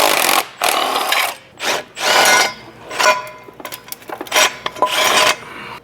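Bolts are backed out of the exhaust manifold on a 2v Mustang with a tool, making a series of loud, close, rasping, whirring bursts separated by short pauses, with a few sharp clicks toward the end.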